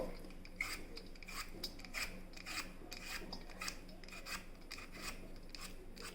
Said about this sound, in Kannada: ಮಾವಿನಕಾಯಿ ಪೀಲ್ ಮಾಡಿಕೊಳ್ಬೇಕು. ಮೊದಲಿಗೆ ಇದರ ಹೊರಗಿನ ಸಿಪ್ಪೆ ತಗೊಳ್ಬೇಕು.